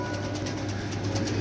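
Pigeons coo in a loft where the birds are kept, a soft repeated throaty cooing over a steady low hum, fairly close and continuous with no talking.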